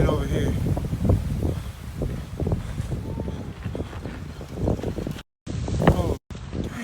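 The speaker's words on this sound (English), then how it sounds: "Oh man, it's so windy." Strong wind blowing outdoors, buffeting the microphone with constant rumbling gusts while people talk over it.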